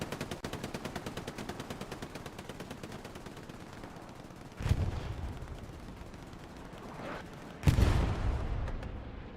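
Machine gun fire in the World War II shooter Hell Let Loose: a long run of rapid rhythmic bursts, with two louder booming blasts partway through.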